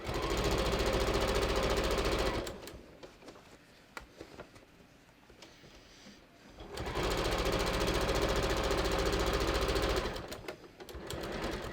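A sewing machine stitches a jeans hem in a circle around the leg, two long, loud, steady runs of rapid needle clatter separated by a quieter pause with faint handling noises.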